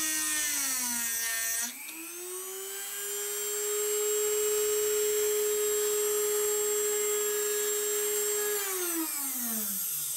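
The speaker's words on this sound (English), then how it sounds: "I used a grindstone to flatten the mounting surface" A grindstone spins up, grinds steadily on steel for a carbide woodturning tool with a loud, even high whine, then winds down at the end.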